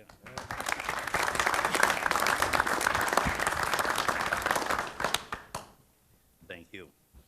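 A board meeting audience gives a round of applause for Mike at his last Diversion Authority Board meeting, dense, loud clapping for about five seconds that stops abruptly, followed by a brief spoken remark.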